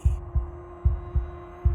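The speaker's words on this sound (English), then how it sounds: "a wooden and fleshy heart beating with an unbroken rhythm" A wooden and fleshy heart beats in Slay the Princess with a steady, unbroken rhythm: five deep, soft thumps under a low, constant drone.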